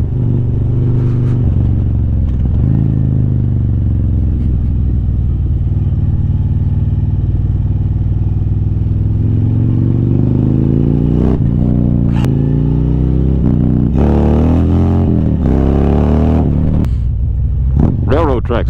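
A Harley-Davidson motorcycle with a 124 cubic inch engine rumbling loudly and steadily as it rides, clattering over railroad tracks near the end, with a rider talking over the engine noise.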